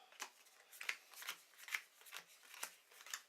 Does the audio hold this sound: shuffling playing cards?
yes